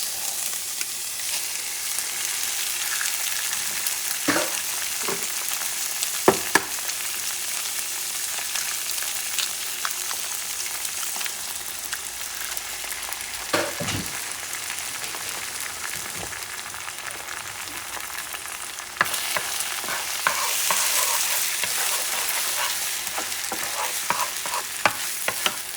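A couple of eggs fry in a high quality non-stick pan, with a steady, soft crackling sizzle throughout, broken by occasional scraping and tapping of a utensil.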